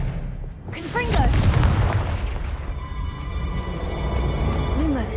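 Confringo blasting spell explosion in the video game Hogwarts Legacy: a deep boom with rumbling aftermath over busy game ambience, while a voice calls out and other effects chirp around it.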